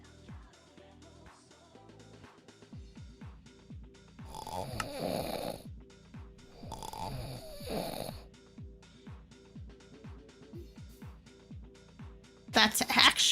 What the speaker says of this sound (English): That's actual recording of her snoring.